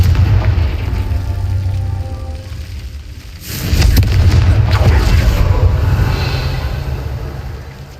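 The Confringo blasting spell in Hogwarts Legacy goes off as a loud, booming explosion with a dense rumbling roar. It sits over constant heavy game ambience, with a second blast surge midway.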